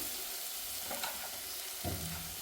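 Tomatoes fry in a pan for keema curry, a soft, continuous sizzle with a couple of brief stirring scrapes near the end, fairly quiet and free of talk.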